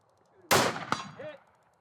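A rifle bought for a 17-year-old daughter fires a single sharp, loud gunshot outdoors on a Texas range, followed by a quick metallic clang of the round striking a target and a short fading tail.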